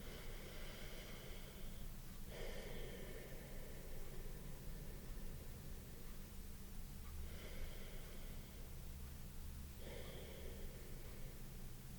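Slow, deep breathing, a long airy inhale and exhale repeating in steady cycles close up with no other sound, as in a calm guided breathing exercise.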